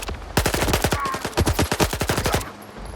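Rapid automatic gunfire in S.T.A.L.K.E.R. 2, a loud sustained burst of about twenty close, evenly spaced shots lasting a couple of seconds before stopping.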